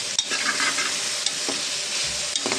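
Pulao spices are stirred into veg biryani in a hot pan, giving a steady close sizzle with a few brief scraping clicks from the stirring and no talking.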